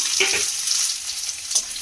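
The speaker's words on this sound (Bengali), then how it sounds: "পেঁয়াজটাকে দিয়ে আমি একটু নাড়াচাড়া করে ভাজা ভাজা করে নেব বাদামি রং আসা পর্যন্ত" Sliced onions frying in spiced oil for an egg curry, a steady close hiss of sizzling with a couple of brief stirring scrapes, no voices.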